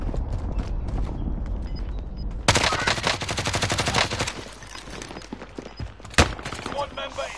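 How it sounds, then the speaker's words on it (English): Gunfire in a multiplayer battle-royale shooter, with rapid bursts of automatic shots and sharp single cracks, loud and close, punctuated by mechanical clicks. "I'm taking fire."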